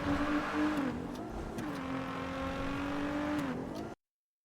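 A car engine in a video game revs and shifts pitch steadily, rising and falling through a few gear changes before cutting off abruptly.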